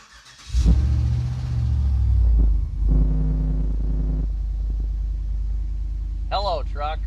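A cammed GMC truck engine cranks and fires up after a 4L80 transmission swap, settling into a deep, loud, lopey idle with a rev, close by, while someone talks.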